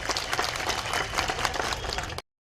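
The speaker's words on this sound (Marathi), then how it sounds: "आपण टाळ्या वाजून या सर्वांचं स्वागत करावं" An audience applauds at the inauguration of an election contact office in Shirdi, a dense, even spell of clapping that cuts off abruptly at the end.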